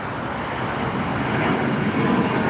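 A British Airways airliner in Great Futures livery at LAX, its engines producing a steady, loud broadband roar that holds constant and swells slightly toward the end, with no voices.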